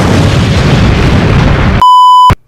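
A loud cartoon-style explosion effect roars as a steady noisy blast, then cuts abruptly to a sharp pure electronic beep before silence.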